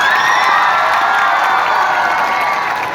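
Audience at a Republic Day event in Dablirathan clapping and cheering, a loud continuous roar of applause and shouts from a crowd that includes children, steady throughout.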